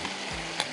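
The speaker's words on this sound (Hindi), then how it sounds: "अभी इसके अंदर जाएंगे ये चने," Chickpeas drop into hot, sizzling masala for Lahori paaye, giving a brief burst of frying crackle and a sharp clatter against a steady sizzle.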